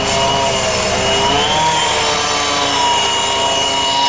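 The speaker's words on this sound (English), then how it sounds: "It's basically a pneumatic drill on hydraulics." A loud, continuous mechanical roar and grinding of a hydraulic breaker breaking up concrete nearby, droning steadily throughout.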